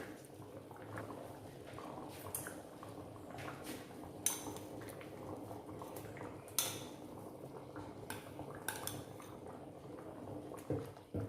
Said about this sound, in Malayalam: ഈ ഉരുളക്കിഴങ്ങ് വേവിച്ച് വെച്ചിട്ടില്ലേ, അതിനെ ഒന്ന് ഉടച്ച് അതിലേക്ക് ചേർത്ത് കൊടുക്കാം